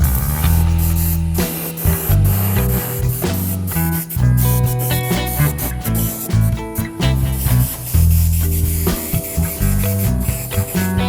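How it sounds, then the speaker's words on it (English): Steady airbrush hiss spraying dirty-looking patina paint onto a ratty Renobug, continuous and close with slight fluttering changes in pressure and no talking. "I've got some more of that dirty paint in my little airbrush."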